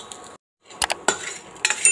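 Lentils, coriander seeds and cumin dry-roasted in a pan, stirred with a utensil that clinks and scrapes against the metal in quick uneven knocks after a short silent gap, close and fairly loud.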